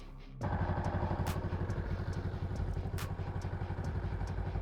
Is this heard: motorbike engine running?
yes